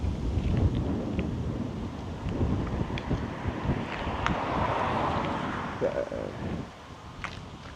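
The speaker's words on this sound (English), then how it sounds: "it's really windy" Loud gusting wind buffeting the microphone outdoors near Oulu, Finland, during a bike tour, a constant rumbling roar with uneven surges and no talking.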